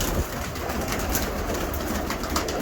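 Pigeons in a breeder's loft coo amid a dense, steady wash of other bird noise, with no voices present.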